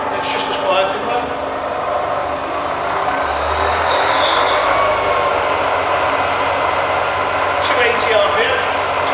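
A Bridgeport Vari-speed milling machine runs in low range with a steady, quiet mechanical hum and whir that holds evenly throughout, near and continuous, with no talk over it.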